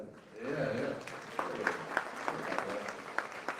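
Audience at a branding talk clapping, a short burst of scattered hand claps in a room, fairly faint, with a voice talking briefly over it at the start.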